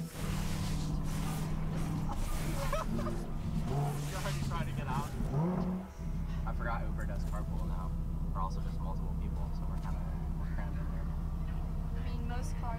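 A car's engine revs hard and climbs through the gears while driving, loud and close from inside the cabin, then settles into a steady drone with road noise.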